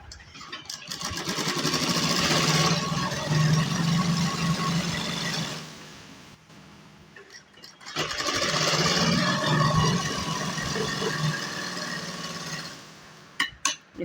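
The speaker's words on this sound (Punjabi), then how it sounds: "ਇਸ ਤਰ੍ਹਾਂ ਆਪਾਂ ਸਿਲਾਈ ਲਗਾਵਾਂਗੇ ਸਟਾਰਟ ਕਰਾਂਗੇ ਇੱਥੋਂ ਸਿਲਾਈ ਲਗਾਉਣੀ" A sewing machine stitches a straight salwar in two long steady runs of motor whir, with a pause between them and a few clicks at the end.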